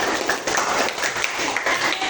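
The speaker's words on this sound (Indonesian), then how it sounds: "Tepuk tangan untuk Putri" Classroom applause for a student presenter named Putri, a steady spread of clapping from a small group of students that continues evenly throughout.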